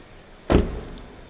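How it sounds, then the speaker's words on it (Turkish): A 2015 Audi A3 Cabrio car door swings shut with a single solid thud, close by in an otherwise quiet space. "kapıyı kapatayım."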